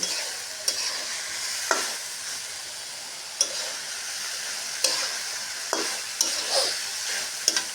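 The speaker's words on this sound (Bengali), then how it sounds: "চিংড়ি মাছ দিয়ে সজনে ডাটাটা ভালো করে কষিয়ে নিচ্ছি" Drumsticks (moringa) and prawns sautéed in a pan, a steady close sizzle with repeated scraping stir strokes throughout, no talking.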